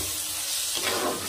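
Egg and eggplant fry in a pan with a steady, close, loud sizzle that swells brighter and busier partway through as the mixture is stirred.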